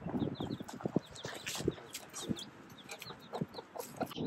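Chickens clucking and scurrying around near a car being washed in Botswana, with soft irregular clucks and scratchy footfalls, fairly faint and close.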